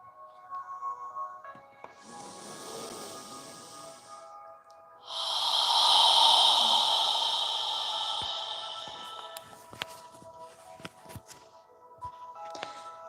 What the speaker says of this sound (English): Imagine you're fogging a mirror with your breath